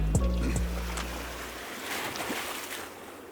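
Water Foley effects mixed into a hip-hop album track: splashing, lapping water and surf-like washes, with a low musical tone fading out at the start before the watery noise continues alone.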